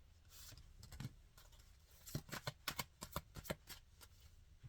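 Playing cards riffled and shuffled during a card reading, a soft rustle at first, then a quick run of sharp, crisp card flicks and snaps, close and fairly quiet.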